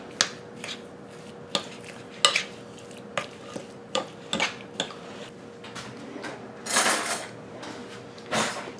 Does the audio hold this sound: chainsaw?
no